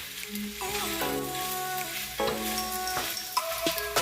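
Chicken and vegetable fried rice with bean sprouts, egg and red onion stir-frying in a pan makes a steady, moderately loud sizzle with intermittent scraping and stirring, no voices heard.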